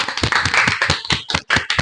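A few people clap their hands together in a quick, uneven rhythm, close and fairly loud, celebrating a winner during a colour-changing challenge.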